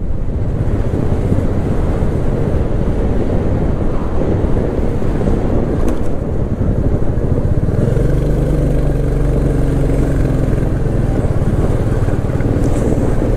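Motorbike riding along a highway bike lane past a toll plaza, a steady roaring rush of engine and heavy wind buffeting the microphone throughout, loud and continuous with no pauses.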